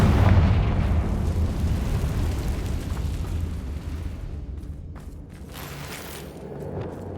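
A Confringo spell explosion in Hogwarts Legacy, heard as a loud deep boom with a rumbling burst that slowly fades into a softer crackling tail.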